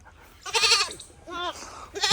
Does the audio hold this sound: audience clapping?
no